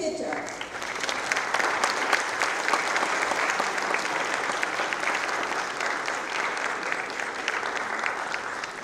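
Sustained applause from a large lecture audience at IIMC, a dense, even roar of clapping that holds steady from start to finish.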